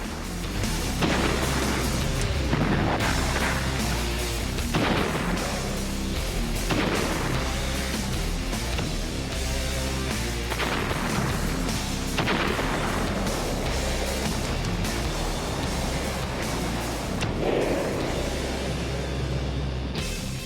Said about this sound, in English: American soldiers unleash a 140-gun artillery barrage